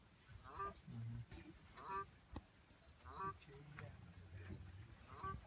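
Goose-like honking bird calls repeat every second or so near white rhinos on a South African game reserve, fairly close and moderately loud over faint background sound.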